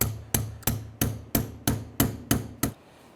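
A punch struck by a hammer against a Honda Element wheel hub, eight sharp metallic blows in a steady, even rhythm, close and clear with no talking.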